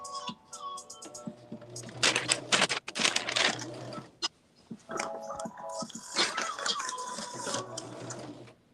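A sewing machine runs a stay stitch along the curved edges of a garment, working in short bursts of rapid stitching separated by pauses, with faint handling noise and occasional voice between runs.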